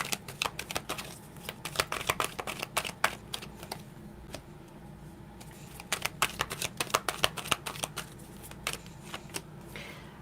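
A deck of tarot cards is shuffled over and over, producing rapid close riffles and sharp slaps of cards in repeated bursts, with no talking.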